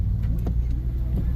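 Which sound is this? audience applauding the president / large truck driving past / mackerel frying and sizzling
large truck driving past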